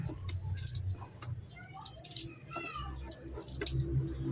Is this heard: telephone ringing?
no